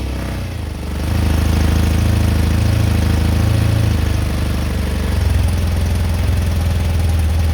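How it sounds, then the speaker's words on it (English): A BMW boxer airhead motorcycle engine fitted with a light flywheel settles into a steady, loud, close idle after a cold start, running evenly throughout with no one speaking. "Now, I'm going to start the bike up."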